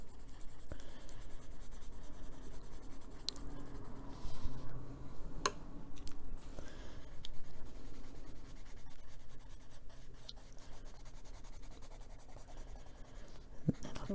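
Colored pencil scratching across paper while coloring, a soft continuous scribbling with repeated back-and-forth strokes and occasional light taps, close and fairly quiet throughout.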